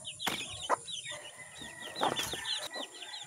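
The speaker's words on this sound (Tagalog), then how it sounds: "At pakainin ko na yung manok ko, nag-iingay." Backyard chickens cluck and squawk busily near their feeding spot, a steady run of short clucks with a few sharper cries and some wing flapping, close by with no talking.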